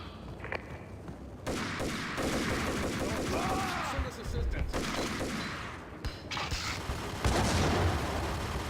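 Gunfire in the Max Payne video game, steady crackling shots and impacts running beneath a voice, fairly dense but moderate in level.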